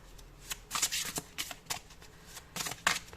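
Tarot cards are shuffled in quick riffling bursts, crisp papery rustles and flicks close to the ear, coming in several short clusters over about three seconds with brief pauses between.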